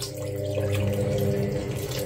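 Water from a tap runs steadily into a cooking pot holding a paprika-seasoned stew in a home kitchen, a close, continuous gushing stream filling the pot for about two seconds with no talking.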